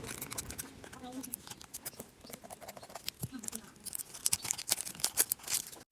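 Plastic packaging of a fidget toy being torn and crinkled open by hand, with sharp rips and rustling bursts under intermittent talk.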